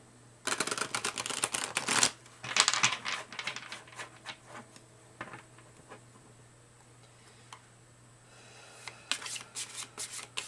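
Tarot cards are shuffled in quick riffling bursts, loud at first, then softer scattered taps, with a faint steady hum underneath.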